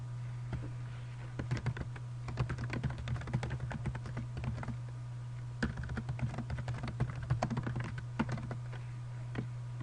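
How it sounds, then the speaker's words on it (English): Someone types steadily on a computer keyboard in two rapid runs of close, crisp key clicks with a short pause between them, entering text into a wiki page, over a constant low electrical hum. "Okay, so I've typed some text in here."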